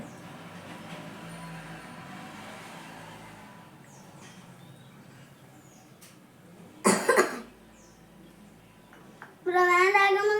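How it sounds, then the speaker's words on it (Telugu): A child coughs after putting something in the mouth, a short loud cluster of coughs midway through, then a voice, over a faint low background rumble. "వస్తుంది నీకు దగ్గు, నోట్లో ఏదైనా పెట్టంగానే వస్తుంది."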